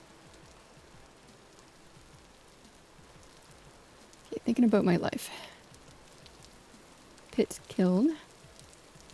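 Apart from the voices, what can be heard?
rain in the video game Vintage Story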